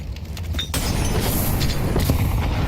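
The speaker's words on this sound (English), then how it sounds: "Nade damage is immense here on Banana" A grenade blast in Counter-Strike on Inferno's Banana during a major tournament match: a loud, close boom that bursts in abruptly and leaves a rumbling, crackling wash of noise.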